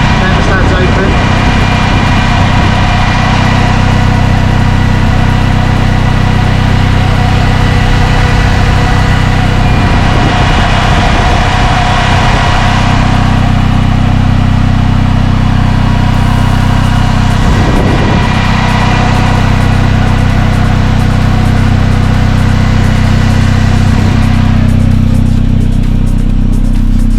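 A Rewaco RF1 Turbo LT trike runs with its engine idling and cooling fans switched on, making a loud, continuous drone and whir close by with faint swells of rushing air.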